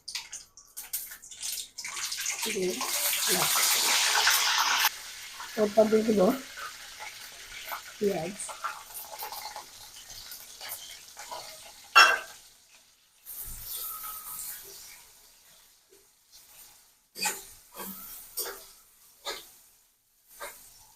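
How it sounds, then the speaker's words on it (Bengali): Bay leaf, cardamom, salt and cinnamon drop into hot oil and set off a loud, rushing sizzle that eases into quieter crackling and scattered spatters, with a voice speaking over parts of it. "তেলটা গরম হয়ে গেছে এখন দিয়ে দেব তেজপাতা এলাচ লবণ ও দারচিনি"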